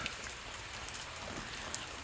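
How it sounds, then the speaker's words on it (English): Light rain patters outdoors in a food forest on a rainy morning, a soft steady hiss with occasional sharper drop ticks, fairly faint and without talk. "it looks like the rain has slowed down again"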